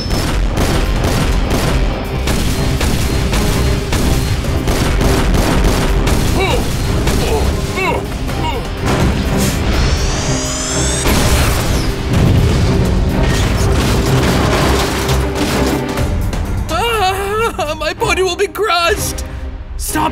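Cartoon laser weapon blasts and booming explosions from an animated battle series about transforming watch cars, loud and dense throughout, mixed with music and shouted voices.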